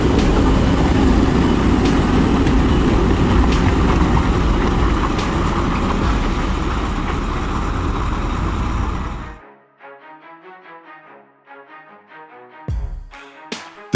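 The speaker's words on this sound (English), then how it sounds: "The giant vehicle roared" A giant off-road truck's engine roars loudly and continuously during a risky rescue, a heavy broad rumble that drops away suddenly, followed by soft music.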